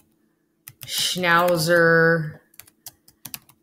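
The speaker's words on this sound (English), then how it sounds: "if I start typing something about" Typing on a computer keyboard while working in Google Docs, a quick run of close light key clicks after a spoken word, several separate taps scattered over the last second.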